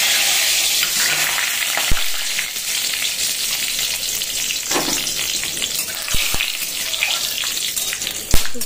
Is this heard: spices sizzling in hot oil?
yes